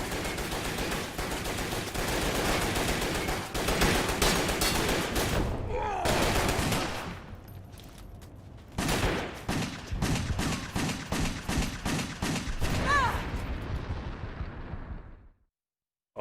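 Heavy video game combat with dense bursts of rapid gunfire and booming explosions, loud and continuous, briefly dropping to a lull midway before another volley of repeated shots, then cutting to silence near the end.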